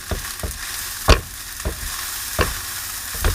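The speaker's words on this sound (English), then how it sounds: "Should hear it again, kind of sizzling." A steady sizzle of fried rice frying in a hot pan, punctuated by several sharp scraping knocks of a utensil stirring, close up with no talking.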